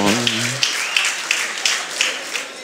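Scattered applause from an audience cheering contestants at a sea bass fishing competition's anniversary open in Spain, thin clapping that begins as a voice finishes and continues lightly in the background.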